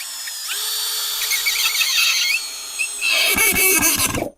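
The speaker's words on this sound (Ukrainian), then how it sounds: "Беру от шурупчик 90 чи 100 і спокійно, навіть на другу швидкість, заганяємо." An ELTOS cordless brushless screwdriver drives a 90–100 mm screw into ash wood, its motor whining in a rising squeal for about two seconds, then a second louder burst with rattling, juddering strain as the screw seats.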